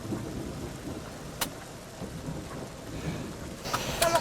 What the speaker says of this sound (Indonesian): Udah tahu hujan petir kayak gini